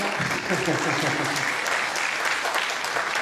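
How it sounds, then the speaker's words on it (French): Concert audience of the Bouligny harmonie (wind band) clapping loudly for the soloists, dense continuous applause filling the room, with a voice briefly speaking over the start. "on peut les applaudir très fort"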